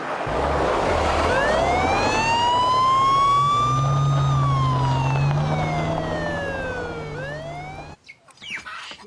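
A police escort siren wails loudly and close, one long rising and falling sweep that lasts about eight seconds before cutting off abruptly, with engine noise beneath it.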